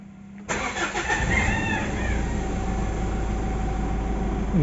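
A Mitsubishi Montero with a misfiring engine cranks briefly and catches, then settles into a steady, loud idle that runs unbroken to the end, heard close up.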